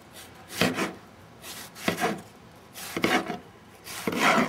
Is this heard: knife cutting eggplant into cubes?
yes